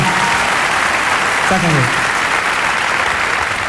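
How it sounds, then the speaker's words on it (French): Studio audience at a French TV show claps in a steady, dense wash that fills the whole stretch, with a voice briefly speaking over it midway. "Si tu veux applaudir ça, ne le fais pas comme ça."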